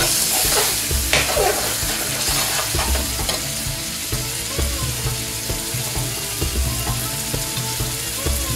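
Tikka masala sauce fries in a pan with a loud, continuous sizzle, joined by scraping and tapping as it gets stirred and a few liquid splashes, with no voices present.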